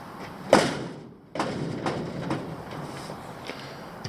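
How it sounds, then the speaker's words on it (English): A garage door being opened in a workshop where a 1988 Suzuki GSX-R Slingshot motorbike is being restored, heard as a sharp knock followed by a sliding rattle and scraping. "Let's open up this door"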